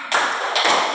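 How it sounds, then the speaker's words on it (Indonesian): Classroom of students clapping the 'tepuk semangat' cheer rhythm, two sharp bursts of massed claps close and loud, with no talking. "Kita berikan tepuk coba tepuk semangat dulu"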